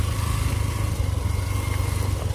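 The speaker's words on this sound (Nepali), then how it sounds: "ओह्रालो ओह्रालो गाह्रो भइरहेको छ बाइक चलाउनु पनि" A motorcycle engine drones loudly and steadily while the bike rides downhill on a rough, difficult road, with a continuous rumbling buzz and steady wind noise up close.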